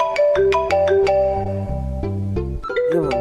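A loud electronic ringtone plays a bright, repeating melodic jingle, clear and close with no talking.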